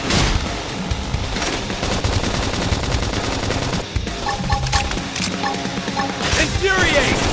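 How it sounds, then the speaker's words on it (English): Rapid bursts of gunfire in the video game Xenoblade Chronicles X crackle continuously, with a brief gap midway, amid explosive booms and electronic game effects. "Now, topple them with some gunfire!"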